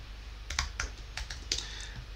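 Typing on a computer keyboard: a short run of quick, crisp key clicks close by, uneven in rhythm, with no talking.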